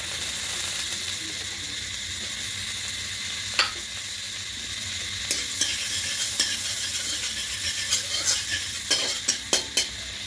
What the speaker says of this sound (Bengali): কড়াই বসিয়েছি, এখানে দেবো ওই কড়াইটার মধ্যে বাটার দিয়ে দেবো।